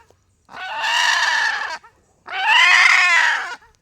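A caught free-range rooster gives two loud, close, drawn-out squawking clucks separated by a short pause, with no talking.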